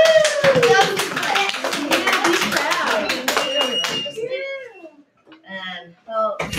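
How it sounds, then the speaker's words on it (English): Second-grade students and adults clapping in a classroom, a brisk burst of close hand claps mixed with excited children's voices and cheering, fading into scattered talk. "Give them a round of applause."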